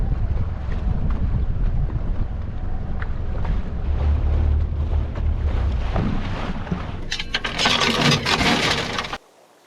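Wind gusting around a boat at anchor in the Great Barrier Reef, a loud, steady rumbling roar buffeting the microphone with rushing air and water noise, briefly louder and harsher near the end before cutting off.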